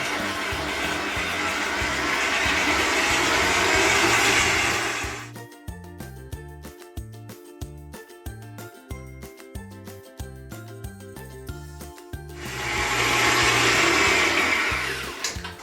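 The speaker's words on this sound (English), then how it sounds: "if you don't have a stand mixer, you can just do this in a large bowl with a wooden spoon, but if you do have a stand mixer," Stand mixer creaming vegan sugar cookie dough, a steady loud motor whir that drops midway to rhythmic clinking and knocking of the beater in the bowl, then swells back to full whirring.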